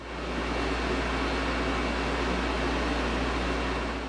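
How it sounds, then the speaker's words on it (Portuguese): Cooling fan of an Elegoo Mars 2 Pro resin 3D printer, a steady, loud whirring hiss with a low hum, running continuously and alone. "Assim que você liga a impressora, já é possível ouvir um ruído bem alto no ventilador funcionando."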